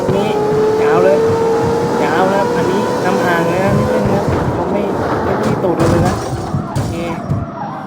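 Race car in the CarX Street street racing game launching hard and accelerating on a nitro boost, its engine note climbing steadily and loud throughout, with someone talking excitedly over it.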